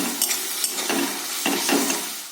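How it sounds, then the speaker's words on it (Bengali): Spice masala with dried red chili powder, onion and tomato fries in a pan for a fish curry, sizzling steadily while a spoon scrapes and stirs in several short strokes. "এবার এই মশলাটাকে ভালোভাবে কষিয়ে দেবো"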